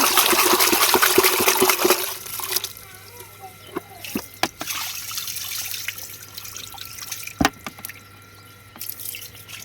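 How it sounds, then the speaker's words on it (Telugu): Tap water runs loudly while prawns are washed, a strong close gush for the first couple of seconds, then scattered drips, splashes and handling noises as the flow eases. "ఇప్పుడైతే రొయ్యలు కడుగుతుంది"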